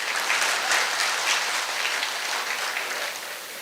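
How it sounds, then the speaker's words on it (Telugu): A crowded lecture audience claps steadily in a dense, continuous burst of applause, loud and close, without any voices over it. "చప్పట్లు చెప్పండి అయ్యా"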